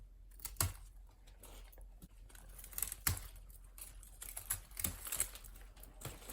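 Crisp snips of pruning shears cutting through pepper plant stems just above the leaf nodes, several sharp clicks at an uneven pace, close and fairly quiet.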